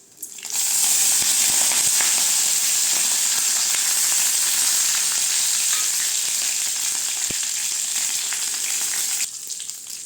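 Cinnamon, cloves and curry leaves sizzle hard in hot oil for a mocha bean kuzhambu, a loud continuous hiss with a few soft stirring clicks, then a sudden drop at the end.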